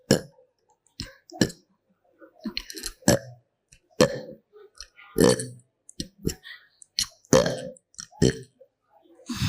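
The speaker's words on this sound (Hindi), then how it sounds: "जाओ, आज के बाद ये डकार बंद, लॉक।" A person burps again and again in short loud bursts, each one separated by a brief pause, with a few clicks and throat noises in between and no clear talk.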